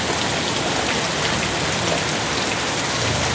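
Heavy rain pours down in a loud, constant hiss, dense drops drumming on surfaces without a break.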